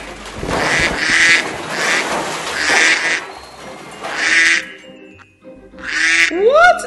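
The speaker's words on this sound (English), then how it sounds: "Quack, quack, quack, quack." A toy duck in a PAW Patrol toy play scene quacks in loud repeated bursts, about five honking quacks spread evenly with short pauses, the last ending in a rising squeaky tone; no talking.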